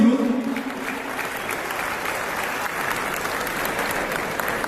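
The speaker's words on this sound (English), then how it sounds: "Can we all have a huge round of applause for all of you in this room?" Sustained applause fills a packed conclave hall, a dense steady wash of many hands clapping at an even level throughout with no break.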